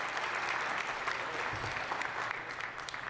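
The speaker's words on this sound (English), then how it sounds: "So how about a round of applause for yourself and the success of this evening." A debate audience applauds for a few seconds in a steady, even wash of clapping, heard from a little distance and fairly soft, with no voices over it.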